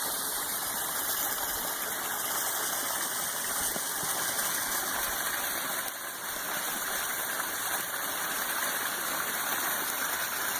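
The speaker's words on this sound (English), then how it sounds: "And you can see again the upper falls flowing" Water pouring steadily down a backyard upper waterfall, a continuous rushing splash heard from a deck above, even and unbroken throughout.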